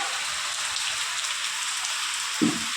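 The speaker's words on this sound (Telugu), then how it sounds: "చూడండి ఫ్రెండ్స్ వర్షం ఎట్లా పడుతుందో" Heavy rain pours in a steady dense hiss on surfaces during a Bathukamma festival gathering, with one short thud near the end.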